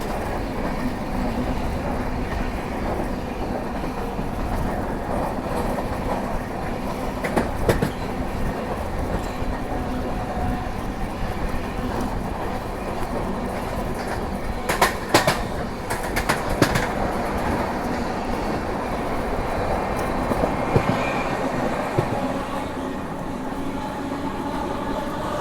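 Vande Bharat express train near Nellore, heard from aboard a passing express: a loud, steady rumble and rail clatter fill the whole stretch, with brief sharper bursts of clanking in places and no talk.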